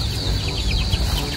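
Chickens kept in a netted backyard pen cluck and murmur steadily at close range, a dense continuous flock sound with soft overlapping calls and no talk over it.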